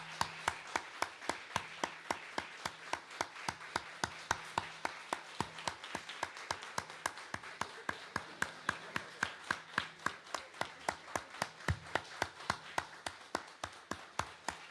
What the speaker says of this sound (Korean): 우리 성가대를 위해서도 격려의 박수 크게 부탁드립니다.